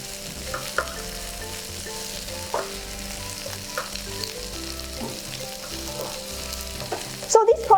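Large tiger prawns for kung pao stir-fry in a pan, giving a continuous close sizzle with light scraping and stirring. A brief loud clatter comes at the end.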